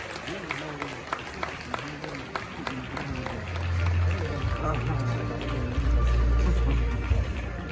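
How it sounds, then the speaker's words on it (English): Audience at a media awards ceremony applauding a winner walking to the stage, scattered claps mixed with crowd murmur and a voice talking, while deep booming music swells in partway through. "with some more warm applause, please help me welcome onto the stage Ebenezer Madugu of Atinka Media"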